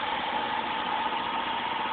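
A Vauxhall Senator 3.0 24-valve C30SE engine idling on test, a steady, even hum with a faint vibrating texture, heard alone at close range.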